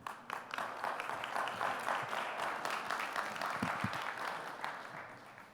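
Applause from a conference audience for a speaker at a plenary session in Interlaken, a steady wash of many hands clapping throughout, moderately distant and fairly quiet.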